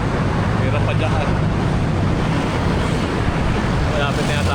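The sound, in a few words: strong wind blowing on a bike ride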